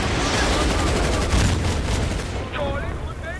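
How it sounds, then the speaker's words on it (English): Heavy gunfire and explosive launches crackle continuously in a Medal of Honor multiplayer battle at Kunar Base, dense and loud throughout, with a sharper burst near the middle and a voice briefly heard toward the end. "There you can see a teammate launching an RPG."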